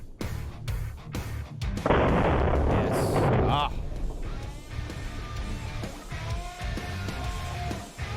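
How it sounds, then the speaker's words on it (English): Several loud rifle shots from an AK-50 fitted with a new muzzle brake crack out one after another. Each blast rings and rolls away, and a sustained burst of noise follows the first shots. "we also did a couple of shots with the AK-50 in high speed"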